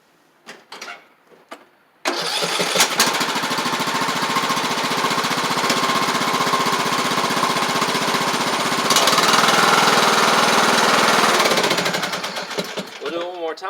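A lawn mower engine fitted with a new UPLUS 250CCA AGM battery catches almost at once after a few clicks and runs loud and steady, revving up briefly near the end before settling.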